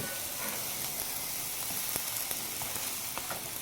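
A gobi-stuffed parota fries in oil on a hot pan with a constant close crackling sizzle and no talking.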